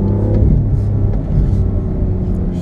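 BMW M2 at full throttle on an autocross course at Monticello, a loud, steady engine roar with deep rumble running throughout, close and sustained without a break.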